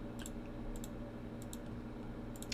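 Light, irregular key clicks come in small bursts as someone types on a computer keyboard, faint over a low room hum.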